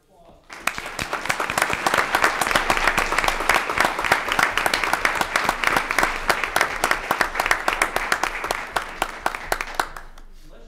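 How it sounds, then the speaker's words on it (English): A big round of applause at an evening school board meeting, many hands clapping in crisp, rapid bursts that swell after a quiet start, hold steady and then thin out. "Ladies and gentlemen, another big round of applause."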